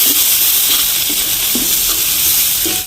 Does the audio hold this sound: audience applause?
no